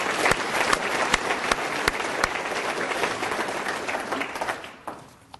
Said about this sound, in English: let's give Sean a round of applause for everything he does